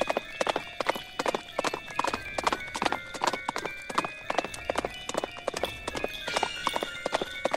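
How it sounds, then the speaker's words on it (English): A horse gallops in the Roblox game Attack on Titan, its hooves clopping in a fast, steady, even rhythm with sharp, close, loud beats, and a voice occasionally heard underneath. "Holy shit, this horse is fast."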